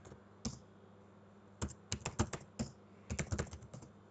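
Someone types a wrong password on a computer keyboard while logging in to a Debian Linux server, with quiet, close key clicks in a single tap and then several short bursts of rapid presses.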